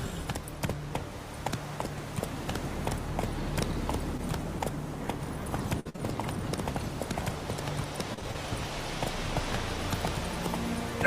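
Roach, the horse in The Witcher 3, gallops with a steady, fast clip-clop of hooves on hard ground, rhythmic and close, running on throughout with a brief break midway and no speech over it.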